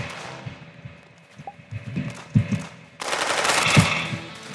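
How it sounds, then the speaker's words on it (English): Rapid gunfire in the Roblox Arsenal video game, bursts of fast shots at moderate loudness over game background noise, getting denser and louder in the last second and a half. "I was shooting at you."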